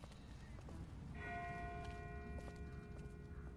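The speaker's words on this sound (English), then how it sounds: "That's not the same bell as before. This one's further off." A faint, distant bell rings in The Walking Dead video game, a few sustained tolling tones rising out of a quiet outdoor backdrop with soft ambient noise and faint clip-clop-like sounds.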